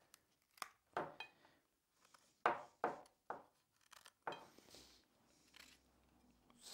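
A knife trims a thoroughly washed fennel bulb on a cutting board, giving a series of sharp, crisp cuts and taps at irregular intervals, close and fairly quiet.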